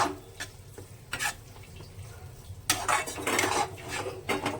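Fenugreek leaf palya sizzles softly in a pan while a spoon scrapes and clinks against the metal in irregular strokes, with a louder run of stirring near the end.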